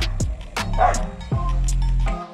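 A dog barks outdoors on a mountain road near Puerto Vallarta, giving a few short, close yips and barks in quick bursts, with people nearby.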